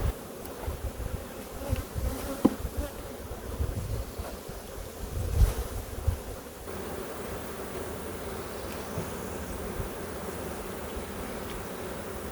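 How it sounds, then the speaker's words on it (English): Honeybees buzz in a steady, dense drone during hive work as colonies are shaken down, with scattered bumps and handling knocks over the hum and no talking. "So I'm going to take the time to shake these bees down"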